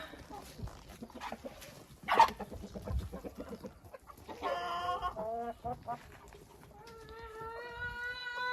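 Hens cluck and squawk close by inside a chicken coop, with a louder burst of cackling and a sustained call near the end, alongside some background noise.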